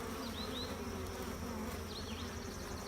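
Honeybees inside a queen rearing hive give a steady, dense buzzing hum that holds at an even level from start to finish, close by and without pause.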